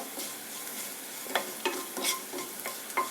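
Onions fry in a pan with a steady sizzle, broken by several sharp scrapes and clatters as a spatula stirs them, close and clear with no talking.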